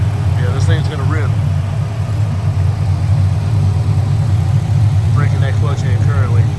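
An LS-swapped Nissan 240 with a manual gearbox runs steadily while its clutch is broken in, a loud, even low engine drone throughout with a voice talking over it at the start and again near the end.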